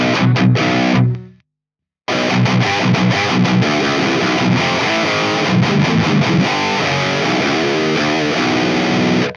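Electric guitar through a Mesa Boogie amp with a heavily distorted tone, dense driven chords and riffs that play, cut out briefly to silence, then resume loud and continuous.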